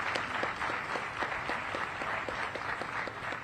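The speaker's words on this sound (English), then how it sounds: "How about a round of applause?" A crowd applauds at a U.S. Army Medical Center of Excellence change of command ceremony, a dense, even patter of many hands clapping throughout, with individual claps standing out in the steady wash.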